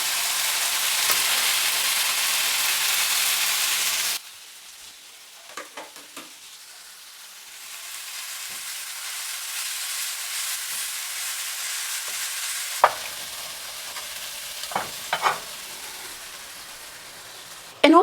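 Collard greens for Brazilian feijoada hit a hot pan with a loud, hissing sizzle that drops abruptly after about four seconds to a quieter, steady frying, with scattered clicks and scrapes of stirring.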